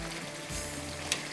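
Curry with green chillies bubbles and sizzles steadily in a pan, a soft, close, continuous simmering hiss with no voices.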